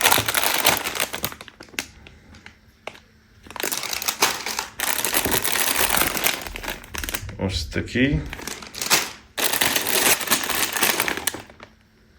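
Lego polybag packets crinkle and crackle loudly in several long bursts of handling, with short quiet gaps, while someone talks over them.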